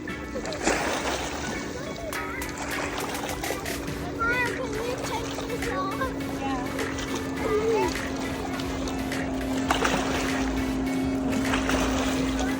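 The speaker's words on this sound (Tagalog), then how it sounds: "Guys, a wave's coming! Yeah, the waves is coming." Lake waves wash in at a picnic spot, a soft, continuous watery rush with occasional splashes, heard under children's excited chatter and adult voices throughout.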